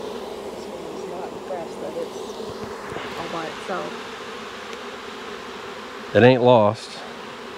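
Honey bees buzzing around a hive frame covered with brood, a soft steady hum throughout with close-up speech over it and a brief louder burst near the end.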